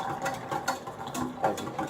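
Jell-O mix being whisked in a bowl until it dissolves, a quick scraping, rattling patter of whisk strokes in uneven bursts at close range.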